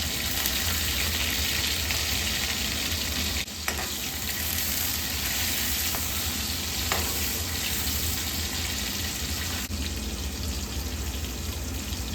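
Spice paste frying in a kadai gives a loud, dense, continuous sizzle close by, broken by a few brief stirring clatters, with no one speaking.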